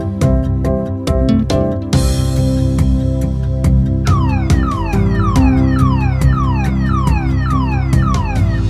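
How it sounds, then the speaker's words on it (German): Police car sirens in a German children's counting song sound as repeated sweeping, falling wails over a loud, bouncy musical backing, with rhythmic beats throughout. "10 Polizeiautos fahren in die Stadt."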